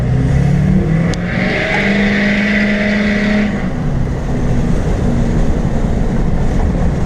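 A 2006 Chevy LBZ Duramax diesel truck with a straight pipe and no EGR gets a quick punch of throttle, its loud exhaust rising in a rev and then settling back to a rough, close drone.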